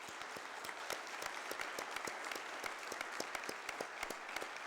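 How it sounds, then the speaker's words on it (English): A high school awards audience applauds graduating seniors with steady, dense clapping that holds at an even level throughout, sounding moderately distant and filling the room. "let's give a round of applause to those seniors"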